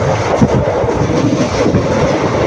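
A superfast train runs on the rails between Karur and Palakkad, a loud continuous rumble with rhythmic clatter, heard close from on board.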